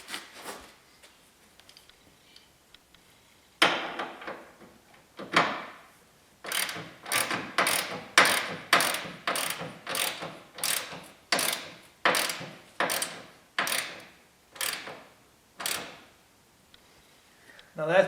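Fasteners are tightened with a ratchet during cab assembly on a Polaris Ranger 6x6 utility vehicle, with a long run of loud, rhythmic clicking bursts close by after a few separate strokes.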